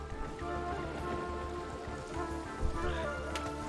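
Rain falls steadily in a Genshin Impact game trailer, a soft continuous patter of drops on surfaces blended with low music and a few brief sharper ticks near the end.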